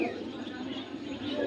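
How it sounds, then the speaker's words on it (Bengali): Pigeons at the Jinjira pigeon market in Bangladesh coo softly in a low, murmuring texture, with people talking nearby under the bird sounds. "জিঞ্জিরা হাটে আরও মাশাআল্লাহ ভালো ভালো জাতের কিছু কবুতর আছে"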